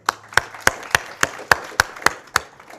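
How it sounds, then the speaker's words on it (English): Nine slow, evenly spaced claps ring out one by one, sharp and fairly close, like a lone or small group of hands clapping at a closing session of a public conference, with no talk over them. "Let's applaud each one."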